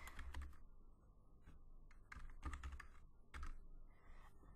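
Quiet typing on a computer keyboard while entering data into an Excel spreadsheet: short bursts of clicking keystrokes in uneven clusters with brief pauses between, alone with no talking.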